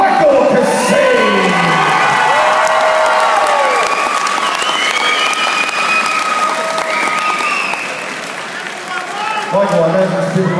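A crowd at a submission fight bursts into loud applause, cheering and whooping just after the armbar win is announced, with shouts and excited voices carrying through the noisy arena.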